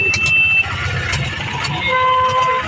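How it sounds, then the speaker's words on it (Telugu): Heavy road traffic crawls past up close, with car horns tooting in sustained blasts over a constant engine rumble, and voices mingle in the street noise. "ట్రాఫిక్ చాలా ఎక్కువగానే ఉంది."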